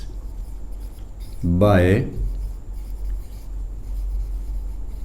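A pen scratches steadily as figures are written by hand into an accounting ledger, with someone briefly speaking over the writing.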